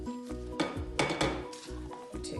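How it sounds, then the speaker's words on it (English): A spatula scrapes and knocks against a bowl while folding Eton mess mixture of cream and meringue, giving repeated close clinks and soft scraping strokes in an uneven rhythm. "And you just fold in all the mixture together."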